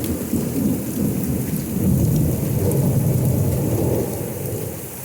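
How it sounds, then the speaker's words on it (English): Heavy Hill Country rainstorm with pea-sized hail and thunder, a loud, dense roar of pouring rain with deep rumbling that swells midway, steady and close, with no voices. "right now, it's just raining really good and pea-sized hail"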